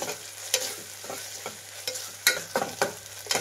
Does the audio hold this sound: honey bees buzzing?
no